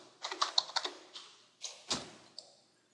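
Keys tapped on a computer keyboard while entering an HTML marquee tag, a quick uneven run of close, crisp clicks followed by a few slower isolated strokes, with no voices.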